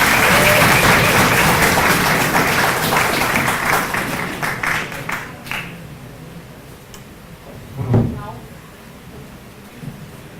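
Loud, dense clapping from a conference panel audience fills the first several seconds, then thins into scattered claps and dies away.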